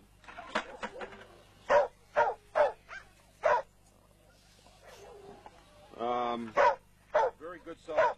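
Dogs barking at a kennel, a series of sharp, loud barks and yips in irregular bursts, with a longer howling or whining call midway, close by.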